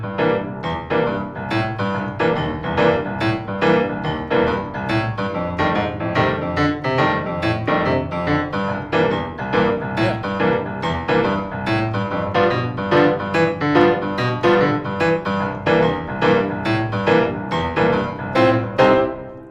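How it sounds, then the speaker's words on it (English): A fast boogie woogie chord rhythm played on piano, loud and close, with driving repeated chords in a steady swinging pulse continuing throughout with no talking. "But now let's get to the third and final and most exciting chord rhythm."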